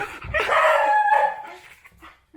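A dog at a home in the Philippines gives a single drawn-out, tonal bark close by, lasting just over a second, then fades into quiet with faint background sounds.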